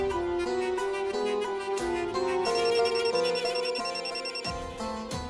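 A telephone rings unanswered, playing a loud melodic ringtone with a repeating pattern of bright electronic tones that continues without pause.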